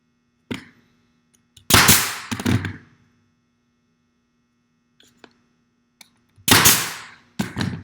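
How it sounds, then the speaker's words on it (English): A narrow crown staple gun fastens a stair tread on a stage deck, firing a few sharp, loud snaps with brief hissing tails, spaced apart by quiet pauses and a faint steady hum. "start with one end of my tread, using my narrow crown staple gun"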